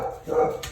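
Puppies barking during playtime after eating, a brief close yap or bark of under a second, moderately loud and heard alone.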